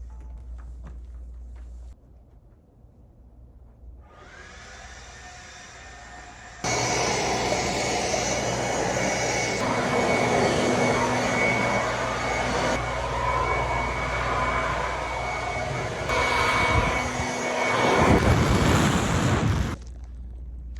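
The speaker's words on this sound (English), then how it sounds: "these blowers really come in handy" A leaf blower clears debris from under theater seats, starting as a faint whine and then rising to a loud, steady roar with pitch shifts as it sweeps along, heard alone without talk.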